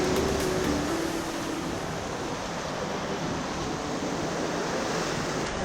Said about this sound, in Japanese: 波が出てきたので